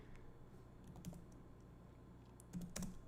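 Computer keyboard typing, scattered keystrokes that cluster near the end, faint and close, heard alone over a low steady background hum.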